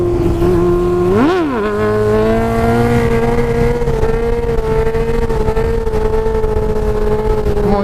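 A Honda CB600F Hornet motorcycle engine revs up sharply during a wheelie, then holds a loud, steady, high-pitched inline-four drone close by for several seconds, with no one speaking.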